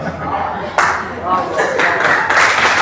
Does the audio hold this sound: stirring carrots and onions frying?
no